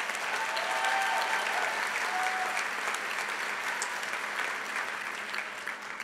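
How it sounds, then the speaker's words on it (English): A large crowd at a community college commencement ceremony applauds in a dense, continuous wash of clapping, fairly loud and steady, tapering only slightly toward the end. "Please, a round of applause."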